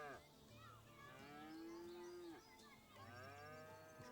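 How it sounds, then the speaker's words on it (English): Cows mooing in the video game Shenmue III, with two long, low moos rising and falling in succession, fairly close and loud with no talk over them. "These cows are noisy."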